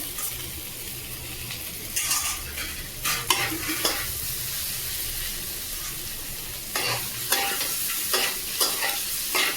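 Maggi noodles being stirred in oil over a high gas flame, a steady sizzle broken by bursts of scraping and clacking as a spoon moves them around the pan; no voices.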